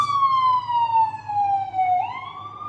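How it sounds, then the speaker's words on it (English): A single loud ambulance siren wails on a New York City street, its tone sliding slowly downward before jumping back up, the pitch bending as the vehicle goes by. "There goes another ambulance."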